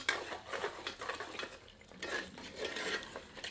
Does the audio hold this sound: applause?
no